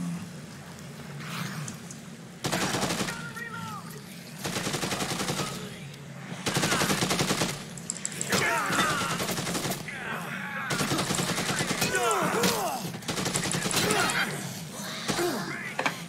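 Bursts of automatic gunfire from the video game Dead Rising 2 Off The Record, loud and sustained in long blocks across the whole stretch, with shorter gaps between volleys and game sounds mixed in.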